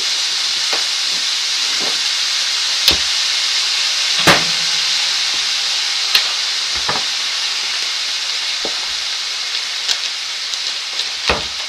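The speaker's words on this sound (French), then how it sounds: "Un jus de citron pour déglacer." Lemon juice hits a hot pan of samphire, giving a steady broad sizzle and hiss with a few sharp crackles and pops standing out, close and continuous throughout.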